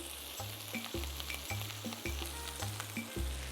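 Red chili and torn basil sautéing in a hot pan, a steady close sizzle broken by a regular rhythm of stirring scrapes and taps roughly every half second, with no talking.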